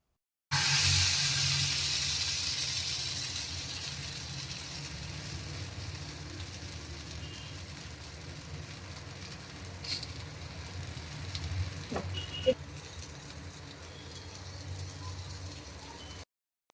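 Bangda mackerel fries in a pan with a continuous soft sizzle and crackle, strongest at the start and then settling into a steady hiss with a few small pops.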